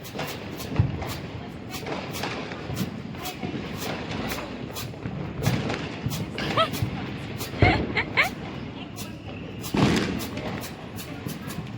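Firecrackers burst during Diwali celebrations in a rapid scatter of sharp cracks and thumps, some close and loud, others farther off, with people talking in the background.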